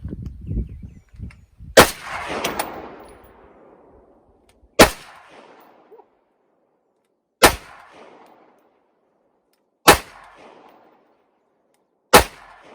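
Five sharp gunshots ring out at a shooting range, spaced a few seconds apart, each loud and crisp with a short ringing decay and no talk between them.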